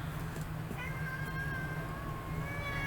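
A pet cat meows in a drawn-out, wavering cry indoors over a steady low hum, fairly close and moderately loud.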